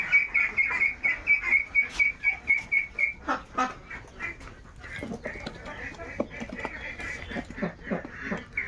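Domestic Muscovy ducks call with a steady run of rhythmic, repeated hoarse notes for about three seconds, then scattered chirps and calls continue against a noisy outdoor background.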